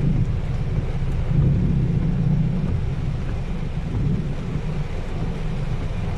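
Low rumbling thunder rolls steadily beneath a constant hiss of heavy rain, a dense stormy wash without any talking.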